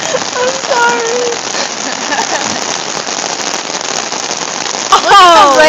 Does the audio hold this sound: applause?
no